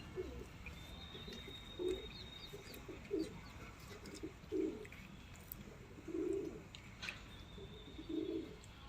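Pigeons coo close by in a steady series of soft, throaty calls roughly every second or so, over a quiet background with no talking.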